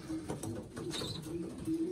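Pigeons in a breeder's loft coo in low, repeated murmurs, several birds overlapping close by against a steady background of soft rustling.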